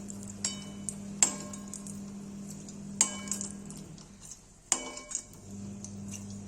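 Onions go into a pan with a little oil and are stirred, giving a few sharp metallic clinks of spoon on pan spread over a low, steady background hum.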